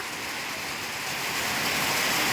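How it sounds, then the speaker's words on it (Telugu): Heavy rain pours down steadily, a dense continuous hiss that swells slightly louder toward the end, with no voices over it. "ఫుల్ వర్షం వస్తుంది ఫ్రెండ్స్ చూడండి ఇదిగో కనిపిస్తుందా"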